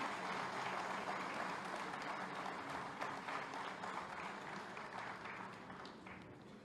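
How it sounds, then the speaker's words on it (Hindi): An audience in an auditorium at a judicial services association event claps continuously, a dense, steady wash of applause from many hands that fades slightly toward the end. "और सभागार से उम्मीद करूंगी कि तालियां बजती रहें।"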